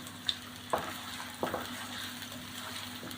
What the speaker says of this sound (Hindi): तो प्याज़ों को हम पहले ब्राउन करेंगे तकरीबन 4 से 5 मिनट।